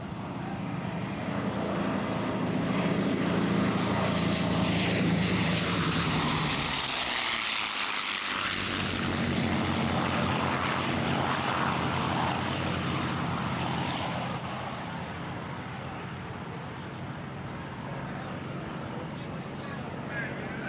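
Propeller warbirds, a P-47 and two P-51s, roar past at an air show with a loud, sustained engine drone that swells and fades, while an announcer talks over the noise.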